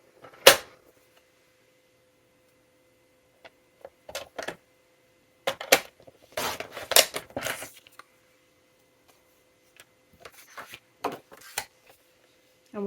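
Cardstock paper being cut with a trimmer, heard as scattered sharp snaps and short sliding swipes, close and crisp, separated by quiet gaps.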